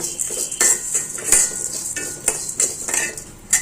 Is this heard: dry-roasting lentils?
yes